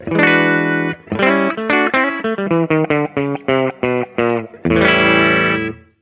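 An amplified electric guitar through a GE100 multi-effects pedal on a clean patch plays a sustained chord, a run of short, separated notes, then another ringing chord; the tone sounds bright, with a little effect coloring it.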